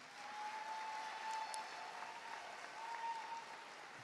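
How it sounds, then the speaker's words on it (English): An audience at a high school commencement ceremony applauds steadily, a dense even wash of clapping heard from a distance and fairly faint, lasting throughout. "Let's give them another round of applause."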